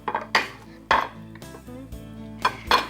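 A knife slices through a crispy inside-out grilled cheese sandwich, several sharp crunching cuts and clinks against a plate in an irregular rhythm, close and clear with no talk.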